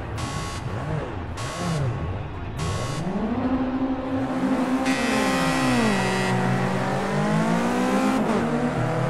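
Race car engines in Project Cars 2 rev and whine up and down through gear changes, loud and close, with repeated buzzing tones cutting in briefly over the engine noise.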